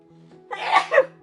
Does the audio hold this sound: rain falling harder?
no